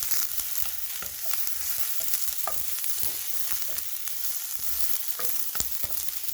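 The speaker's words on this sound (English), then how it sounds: "I have some onion here I'm going to saute" Chopped onion sizzles steadily in a hot pan, with scattered clicks of a utensil stirring it and no voices over the frying.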